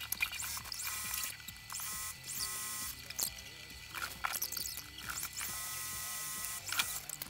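A sewing machine runs in rapid, steady mechanical bursts with short pauses while stitching grommets onto a fabric skirt, close and fairly quiet.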